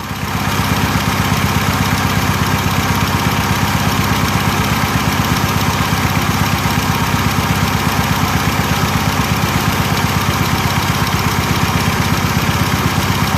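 A 1997 Pontiac Grand Am's 2.4L Twincam engine runs steadily at idle, a loud, continuous low rumble with an even pulsing throb that holds unchanged throughout, with no talking.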